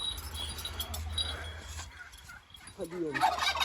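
Domestic chickens cluck and call in a brief, uneven burst of fowl noise, with a rising squawk near the end and a faint voice in the background.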